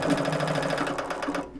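A ProSpangle 4Up spangle machine runs at 700 to 800 spangles per minute, a fast, steady mechanical chatter like a sewing machine, close and loud, stopping abruptly at the end.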